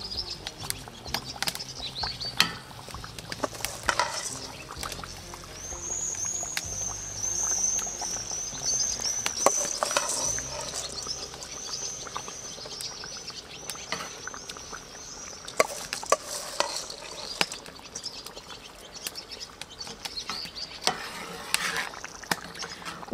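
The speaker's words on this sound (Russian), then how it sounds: "И начинаю закладывать рис." Rice poured and spread into a cauldron over simmering liquid for beef plov, soft continuous rustling and scraping with faint bubbling and light clinks throughout, quiet and steady with no talking.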